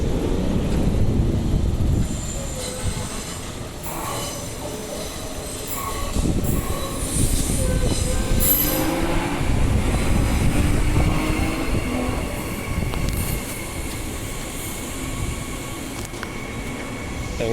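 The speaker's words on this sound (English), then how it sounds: "Midland Line train is arriving." A Transperth Midland Line train pulls into a station in Perth, with a loud rumbling roll of wheels, clanks over the track and high wheel squeal, continuous and close throughout with no talk.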